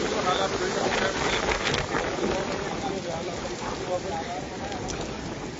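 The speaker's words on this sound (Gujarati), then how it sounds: "ભારે પવન જે ફૂંકાઈ રહ્યો છે" Strong wind gusting steadily in open village surroundings during a sudden weather change, a loud broadband rush buffeting the microphone throughout with no pauses.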